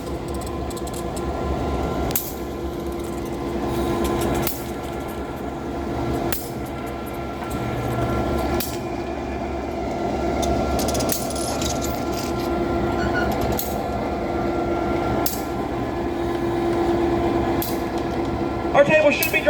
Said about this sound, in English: Your locomotive today is Nashville, Chattanooga, and St. Louis Railway number 710.